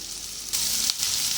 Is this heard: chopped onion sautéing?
yes